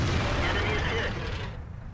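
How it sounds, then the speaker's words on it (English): 152 mm HE tank cannon firing in World of Tanks, a single loud booming blast that rolls out and fades over about two seconds. "this is the 152 millimeter HE cannon. It's firing HE"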